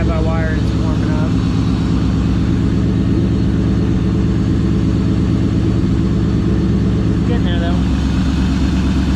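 A car engine fitted with a Holley Terminator EFI and drive-by-wire throttle idles steadily while warming up, a constant low rumble with someone talking over it.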